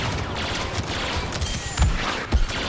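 Blaster gunfire aimed at a shield in the video game Star Wars Battlefront 2, a rapid crackling volley of shots with a couple of heavier thumps near the end, loud and continuous over dense battle noise.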